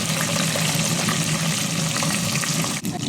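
Garlic sizzles in hot oil for a Telugu dal tempering, a steady, close, crackling fry that runs throughout before a brief dip near the end.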